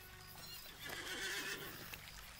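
A horse in the game Lord of the Rings Online whinnies loudly over the steady clip-clop of its hooves, set against a constant ambient game background with no talking.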